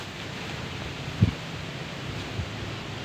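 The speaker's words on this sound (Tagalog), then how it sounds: "Malakas ang hangin ngayon" Steady wind roars and rustles against the microphone, with one soft thump partway through.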